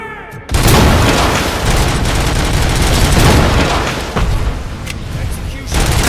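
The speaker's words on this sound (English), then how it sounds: "Throwing grenade!" A grenade detonates in the RoboCop: Rogue City video game, a loud, dense blast followed by sustained rumbling and crackling debris with gunfire-like bursts, filling nearly the whole stretch after a brief quiet start.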